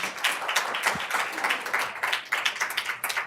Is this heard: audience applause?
yes